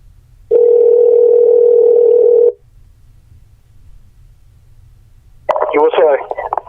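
A steady telephone dial tone on a Sony Bluetooth speakerphone, holding for about two seconds before cutting off, then a brief burst of a voice after a quiet pause.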